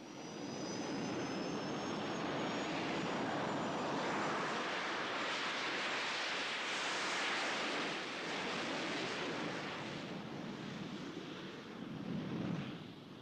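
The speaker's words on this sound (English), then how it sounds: "The jet engine moves the aeroplane forwards by pushing backwards a stream of hot gases with great velocity." A jet aeroplane engine gives a loud, sustained roaring rush with a thin high whine, holding steady before easing slightly near the end, heard alone without talk.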